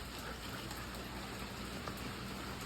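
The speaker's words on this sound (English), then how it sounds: "As you can see, it's raining" Steady rain falling outdoors at a large estate sale in Brentwood, Tennessee, a faint, even hiss of drops with no breaks.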